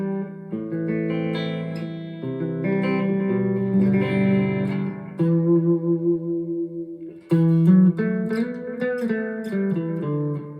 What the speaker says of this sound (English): I like my delay